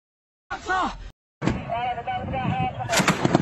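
Blast attack on a Pakistan Army convoy in Balochistan, with two heavy booming bursts close together followed by rumbling noise and shouting voices over it.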